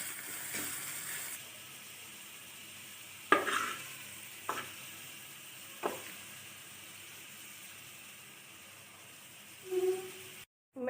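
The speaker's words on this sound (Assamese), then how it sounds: "এনেকৈ আমি ৰঙা কৰি ভাজি লৈছো" Onion and chutney mixture frying in oil in a pan, with a steady close sizzle and a few sharp scrapes of stirring.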